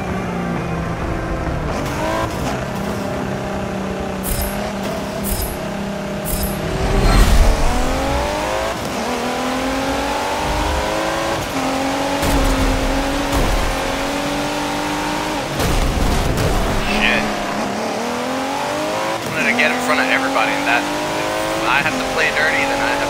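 Race cars in Forza Motorsport 7 roar continuously through gear changes, engines rising and falling in pitch with revving shifts and brief tire squeals, loud and close throughout.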